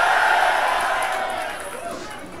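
A crowd at a Davao rap battle event roars and cheers loudly, a dense wall of voices that holds strong and then slowly fades across the clip.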